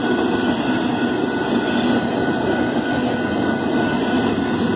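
A Union Pacific freight train rolls steadily past through rural countryside in Saint Elmo, Illinois, a loud, continuous rumble of railcars and wheels on track with a faint high squeal running throughout.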